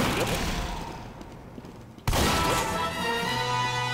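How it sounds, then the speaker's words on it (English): Heavy's shotgun in Team Fortress 2 going off amid a noisy game fight, a sharp loud blast at mid-clip cutting through dense gunfire and clatter, with a voice talking faintly underneath. "you can put out great deals of damage with just the shotgun"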